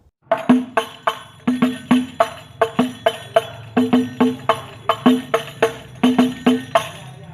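Hadroh frame drums play a basic key-two rhythm, dense repeated slaps with deeper thumps mixed in, steady and close throughout with no talking.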